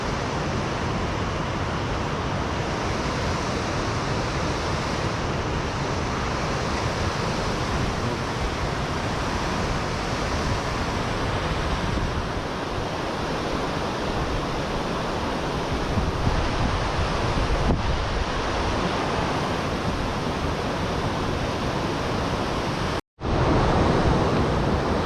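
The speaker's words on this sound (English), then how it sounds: "all the noise and rapids" River rapids rushing in Yellowstone, a continuous dense roar of churning whitewater that stays loud and steady throughout, broken only by one abrupt brief dropout near the end, with no talking.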